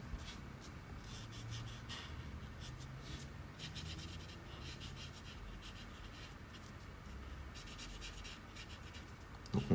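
Pale blue colored pencil rubbing steadily across paper while coloring a drawing's jersey, a continuous soft scratchy stroking with rhythmic back-and-forth texture, close and fairly quiet, no talking.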